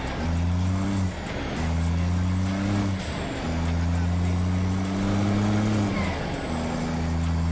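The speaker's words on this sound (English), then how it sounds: "Let's listen to the engine." A car engine idles and revs in repeated steady pulls, a loud, close drone that rises and drops in pitch across several bursts, with speech underneath.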